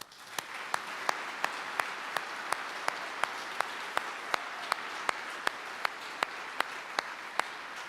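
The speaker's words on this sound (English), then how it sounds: "Please join me in a round of applause for Army families." Round of applause at an Army retirement ceremony, a large audience clapping steadily in a big hall, with a regular sharp beat of louder rhythmic claps running through the wash.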